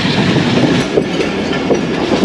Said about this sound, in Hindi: 2:35 पे ट्रेन पहुंच चुकी है जी कोट लखपत रेलवे स्टेशन।